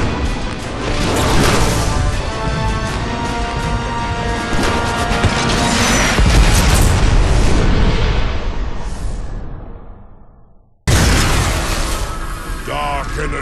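A warship rams into a space station in the Transformers War for Cybertron game, setting off a long, dense, very loud crash of grinding metal and explosions. It fades out, cuts to silence, then blasts back in abruptly.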